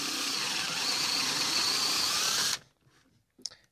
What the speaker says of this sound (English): Now I'm drilling a 1-inch hole in here